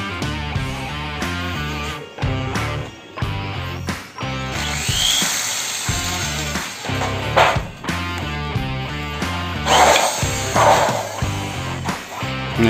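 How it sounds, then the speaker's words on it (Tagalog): Power drill running in repeated bursts into wood, with its whine rising and falling across several starts and stops, loud and close. Dog-like yips or squeaks sound faintly in between. "Setup yung drill."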